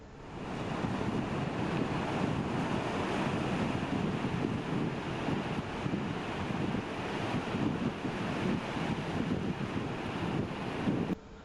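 Continuous roar of surf off the Costa Rica coast, waves rolling and breaking steadily, with wind buffeting the microphone throughout; no voices.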